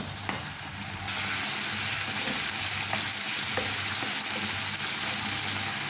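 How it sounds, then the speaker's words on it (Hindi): Softened tomatoes stirred and mashed with a spoon in a pot of Shinwari mutton karahi, a steady loud sizzle of frying with occasional light spoon taps and scrapes, no voices. "बस अब ऐसे ही चम्मच हिलाते हुए इन टमाटरों को इसमें मसल देंगे।"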